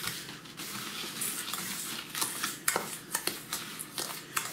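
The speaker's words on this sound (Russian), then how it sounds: "Перемешиваем засолочную смесь." A salt and sugar curing mix for herring is stirred in a bowl, giving soft, quiet scraping with a few sharp clicks of the utensil against the container.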